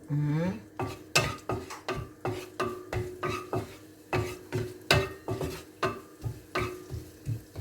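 Garlic hits hot oil in a pan and is stirred, with a faint sizzle beneath a regular series of sharp metal spatula scrapes and clanks against the pan, close and loud, about two per second.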